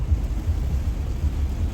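Steady heavy rain with a deep low rumble, loud and continuous throughout, with no voices over it.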